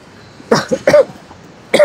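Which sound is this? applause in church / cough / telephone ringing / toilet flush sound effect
cough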